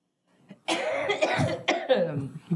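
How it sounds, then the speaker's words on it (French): A close, throaty cough fit of several rough bursts in quick succession after a moment of quiet. "Avec une bonne toussette."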